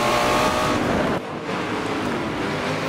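Race cars roar off the start at Infineon Raceway in Forza Motorsport 7, a dense, loud engine drone that dips briefly mid-way before the pack's howl resumes, with no voices over it.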